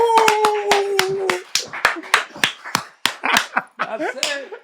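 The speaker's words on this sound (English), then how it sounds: "a round of applause for my brother, Bebe Cool!" A small group claps sharply and unevenly in a room, with individual hand claps clearly separated, alongside whoops and voices calling out over the applause.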